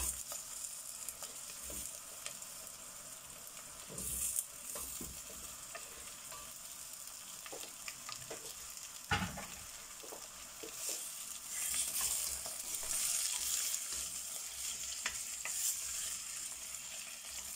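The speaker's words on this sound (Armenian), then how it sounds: "սոխառածը պատրաստ լինելուց հետո արդեն ավելացնելու եմ իմ կտրտած կարտոֆիլը" Chopped potatoes frying with sautéed onions in a pan for nettle soup, a steady soft sizzle with scraping stirs and occasional louder clatters of the utensil, fairly quiet and with no talking.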